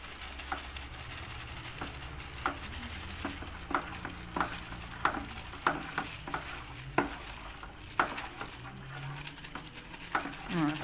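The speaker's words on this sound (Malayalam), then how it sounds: "ഉപ്പ് ചേർക്കുന്നതിനനുസരിച്ച് നമുക്കിത് നന്നായിട്ട് ഇളക്കിയും കൂടി യോജിപ്പിക്കണം" Salt being stirred into a homemade toilet cleaner mixture, a steady scraping swirl with repeated light knocks and taps against the container, fairly quiet and close, with no talking.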